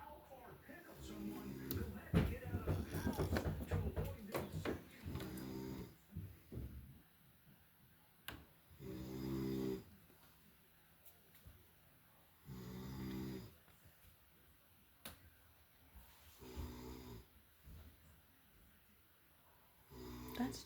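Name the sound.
man snoring while asleep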